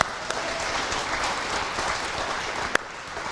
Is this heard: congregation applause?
yes